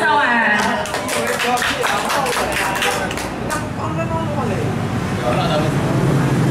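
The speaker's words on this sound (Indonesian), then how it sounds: "tepuk tangan buat Mas Awan" An audience at a poetry night in Sidoarjo claps for a few seconds, with a burst of close, dense applause that thins toward the end as a voice speaks over it.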